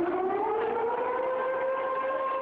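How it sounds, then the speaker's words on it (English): A tsunami warning siren wails in Yokohama during the 2011 earthquake, a steady sustained tone with harmonics sounding from a distance, with no talk. "Just minutes earlier, the tsunami sirens wailed."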